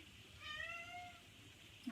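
A single cat gives one drawn-out meow, moderately close and fairly soft, against a quiet indoor background with a brief faint knock at the end.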